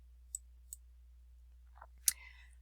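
Computer mouse clicks on a software Load button for drawing line types, a few sharp separate clicks, the last one louder, in an otherwise quiet room.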